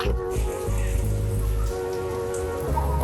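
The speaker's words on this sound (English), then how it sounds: "It's now raining." Rain falls steadily at an outdoor pool in Tokyo, a continuous close hiss of drops on water and surfaces, with low rumbling underneath and no talking.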